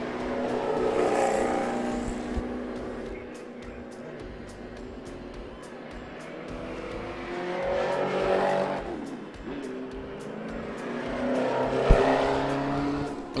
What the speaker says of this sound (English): we have now the Mustangs, the APVs come out for the V8 Masters race